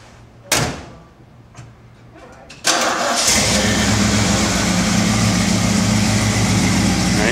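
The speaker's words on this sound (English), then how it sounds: "Now, anybody that knows Fords knows that 302 sound." A 1973 Ford Bronco's 302 V8 cranks and catches at a classic car dealership, settling into a loud, steady rumbling idle after a car door slams shut moments before.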